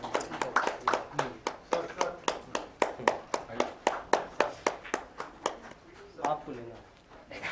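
An audience at a literary award ceremony claps in a steady, even rhythm of sharp individual claps, about three per second, near and moderately loud, slowing and thinning toward the end.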